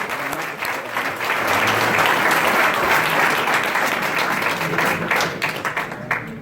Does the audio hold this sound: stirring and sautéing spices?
no